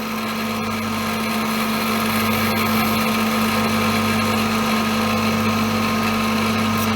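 Continuous machine drone and hum from a drilling machine peck drilling holes in small 0.6-0.7mm pecks with full retracts while making a 3 ton arbour ratcheting lever, a steady mechanical whir without speech.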